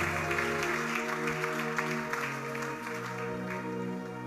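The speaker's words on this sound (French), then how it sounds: "Est-ce qu'on peut acclamer pour le Seigneur?" A church congregation at a service in Lubumbashi claps and cheers for the Lord, a dense, continuous wave of applause with a sustained organ-like tone underneath.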